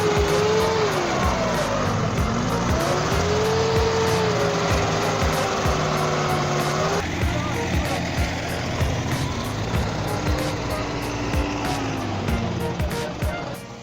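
A New Holland TD100 tractor with a 110-horsepower FPT four-cylinder turbo engine labors through swamp mud, its engine droning loud and continuous with wavering pitch as load changes, under dense mechanical noise.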